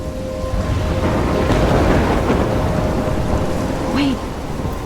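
A thunderstorm in the video game Life is Strange: heavy, loud rain pours steadily while a broad rumble of thunder swells and fades through the middle, with no one talking.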